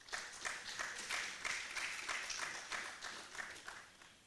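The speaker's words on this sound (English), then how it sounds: "A round of applause." Faint, distant applause from a student architecture congress audience for a panelist from Algeria, an even patter of many hands clapping steadily for several seconds.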